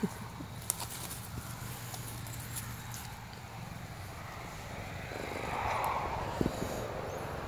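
A soft, steady low rumble of a cat purring runs close by throughout, with faint outdoor ambience and a few light knocks.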